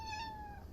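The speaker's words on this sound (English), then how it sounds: "Oh yeah, you're a cat." A cat gives a single clear, drawn-out meow, faint and set against a quiet background hiss.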